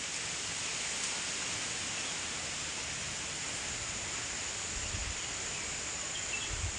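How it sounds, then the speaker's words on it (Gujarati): A cool wind blows outdoors in green, rain-soaked countryside, making a constant, dense, roaring hiss that stays loud and even from start to finish. "ઠંડો ઠંડો પવન ચાલે છે"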